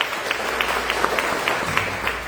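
A church congregation applauding during a service, steady crowd clapping with a few sharper claps standing out at regular intervals across a short stretch.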